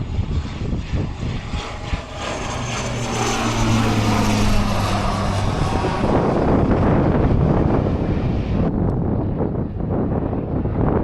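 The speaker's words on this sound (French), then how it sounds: "Donc l'avion il passe au-dessus, il largue son fertilisant et puis voilà." A propeller crop-dusting airplane flies over a farm field dropping fertiliser, its engine droning loud and close with wind buffeting, swelling as it passes overhead and then receding.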